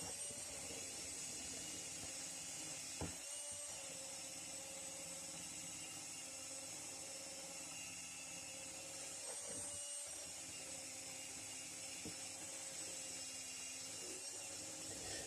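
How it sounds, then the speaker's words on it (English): A wire wheel chucked in a drill whines steadily as it scrubs a metal vise casting, the faint high drone broken by a few brief pauses and bumps. "there are a few intricate places that still need wire wheeling, so I'm using it on the end of the drill here"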